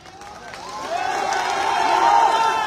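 A crowd at a political rally in India cheers, whoops and claps, the roar swelling steadily and staying loud and continuous throughout.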